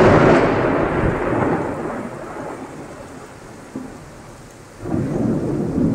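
Heavy rain pours down while deep thunder rumbles loudly, the roll fading gradually before a fresh low rumble swells up near the end.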